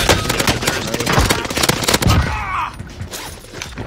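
Automatic gunfire in Warzone Pacific crackles in loud rapid bursts, near and dense through the first half, then thins to a few scattered distant shots over background rumble.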